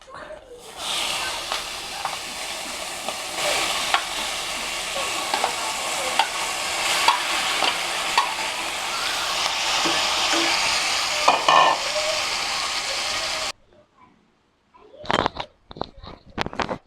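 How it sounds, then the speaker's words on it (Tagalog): Pork sautéing in a hot pan gives a loud continuous sizzle and hiss with stirring scrapes, close up, then cuts to near silence followed by a few sharp knocks. "Ayan, at isasangkot siya muna natin siya"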